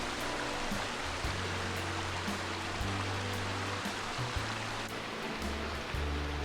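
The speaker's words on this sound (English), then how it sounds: "sound of running water again" A mountain stream runs over rocks in the Smoky Mountains near Gatlinburg, Tennessee, in springtime, a steady broadband rush of water heard close and continuous, with faint low hum underneath and no voices.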